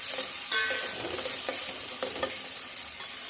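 Two medium onions frying in a pan, a continuous light sizzle broken by clinks and scrapes of a spoon stirring, close and moderately soft.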